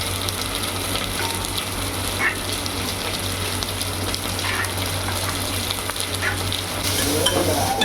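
Onions with turmeric sizzle and hiss in a hot pan, a steady close frying crackle with occasional stirring scrapes and no talk.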